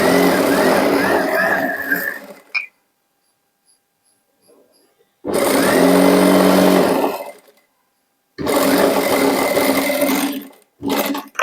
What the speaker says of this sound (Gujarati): બંને છેડાને સરખા પકડી અને સીધી સિલાઈ કરી દેવાની.